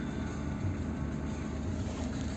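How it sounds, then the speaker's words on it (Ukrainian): Steady low hum of a running air conditioning compressor in a 2009 Volvo V50 facelift with a 1.6 diesel engine and manual gearbox, heard from inside the car as a constant drone without speech. "Включився компресор, холодом теж дує."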